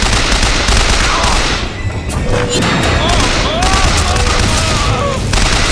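Loud, dense bursts of gunfire and explosions from the video game BioShock Infinite fill the clip, with a busy, cluttered texture of combat noise throughout.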